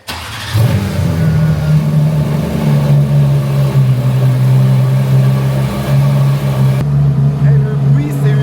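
A car engine cold-starts with a sharp catch, then settles into a loud, rough, resonant idle with revving, close and dominant, echoing in the surroundings.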